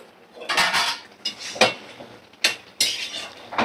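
A lid lifted off a pot of simmering fish curry makes several close metallic clanks and scrapes, irregular and sharp, with no voices.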